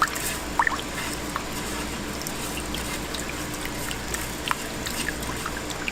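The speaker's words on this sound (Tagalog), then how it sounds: "Binabad ko na siya sa tubig na may asin." Chicken soaking in a salt-water brining solution, with soft continuous watery trickling and sloshing plus a few small drips and clinks, close and fairly quiet with no talk.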